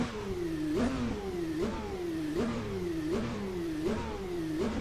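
Repeated throttle blips from a racing car's engine in the Automobilista sim, six or so sharp rev spikes each falling away quickly, evenly spaced about every eight tenths of a second, close and alone.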